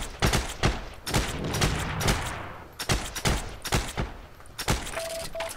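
Rapid gunfire from the World War II shooter game Heroes & Generals, loud bursts of automatic fire with sharp single shots scattered throughout, close and continuous with no talking.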